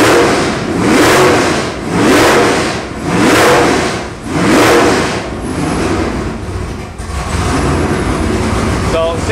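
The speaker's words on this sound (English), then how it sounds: "So I want to show you the rev." Chevy LS 496 cubic-inch (8.1 L) X-Ram V8 by Nelson Racing Engines, rated 690 hp, blipped four times in quick, loud, rhythmic revs before settling into a rough, throbbing idle.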